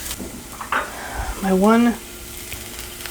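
Garlic browns with a little sugar in a noisy pan, giving a steady close sizzle with light stirring, and a voice is briefly heard.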